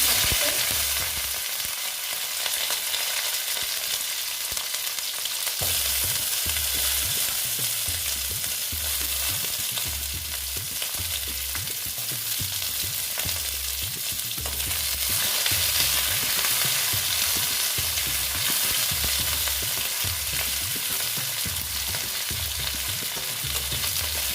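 Cauliflower stalks fry in spiced oil with a continuous loud hiss and crackle that holds steady throughout, broken by rhythmic low scraping and stirring in the pan, close by with no voices.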